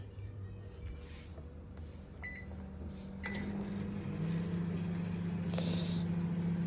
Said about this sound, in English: let this popcorn do its popping business